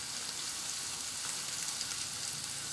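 Spice paste with candlenut sizzles and fries steadily in hot oil, a dense, even crackle close by, heard alone without talk.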